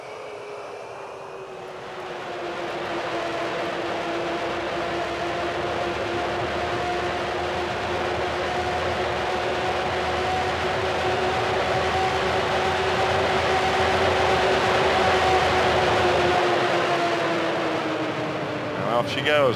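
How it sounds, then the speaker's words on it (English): Avro Vulcan jet engines in a flight simulator spool up from a low hum into a steady, loud, rising whine with tonal bands that climb and hold, sustained and close for the full stretch. "Now I'm going to throttle this thing up."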